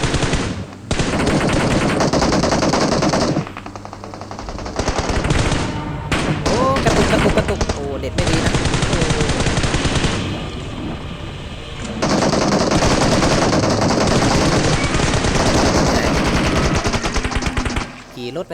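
Loud, sustained automatic gunfire from a PUBG Mobile match, long bursts of rapid shots with brief pauses between them, close and dominant over faint background chatter.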